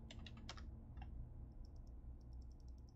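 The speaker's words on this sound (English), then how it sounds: "So we're gonna type here." Keys clack on a computer keyboard in The Apartment 2 video game, a quick burst of presses followed by lighter, faster ticking taps over a steady low hum.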